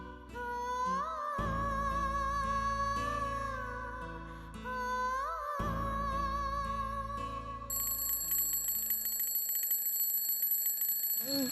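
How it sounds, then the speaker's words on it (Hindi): An alarm clock rings with a repeating electronic melody of steady tonal beeps, loud and close, shifting to a brighter, higher ringing pattern near the end, with no talking. "ताई प्लीज अलार्म बंद कर दो ना, मैं थोड़ी देर में उठ जाऊंगी।"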